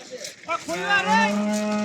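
A cow lets out a long, loud moo up close, with a cattle market's background chatter and noise around it.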